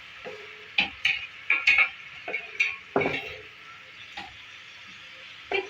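Onions and chopped tomatoes being stirred in a frying pan for a bhindi pyaz dish, a series of sharp spoon scrapes and clinks against the pan over a faint sizzle, close and irregular.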